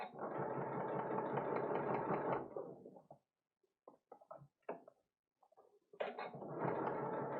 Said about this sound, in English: This Janome has no problem with it. This is the Janome Skyline S7.